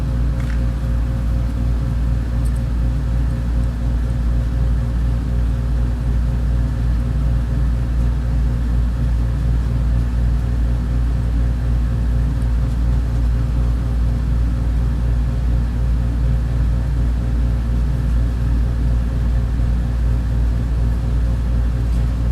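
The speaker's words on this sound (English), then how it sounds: "Sorry about the noise, but that's my air conditioner, and then of course the fume extractor." Steady, constant mechanical hum and whir of an air conditioner and a fume extractor fan, droning without pause throughout.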